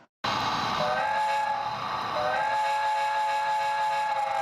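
A model train on a replica of the old Louisbourg to Glace Bay railway in Cape Breton sounds a long, steady whistle with layered tones over a continuous rumbling run, close and loud throughout.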